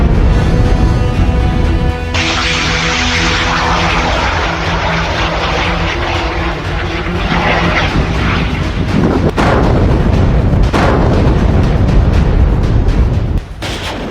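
Loud, continuous roar of an Indian Nag anti-tank guided missile being fired at a target, with a broad engine-like rush that shifts and swells and a couple of sharp bursts toward the end, no voices.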